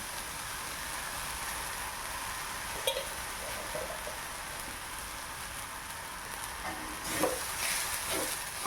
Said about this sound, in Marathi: आपण आता चांगले भाजून घेऊया। तरी आता मटकी भाजलेली आहे, तर आपण वाटून बारीक केलेले वाटून टाकूया।